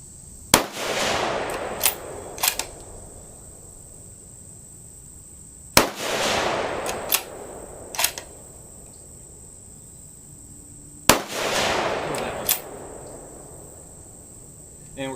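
Savage Scout rifle fired outdoors, three sharp loud shots spaced several seconds apart, each followed by a rolling echo and a few smaller clicks, with a steady insect-like hiss underneath.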